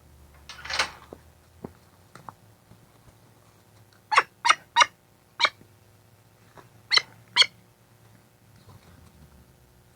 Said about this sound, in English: It's my old bird Pinky.